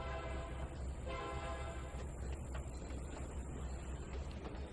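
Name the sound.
train locomotive running in Trainz 2019 video game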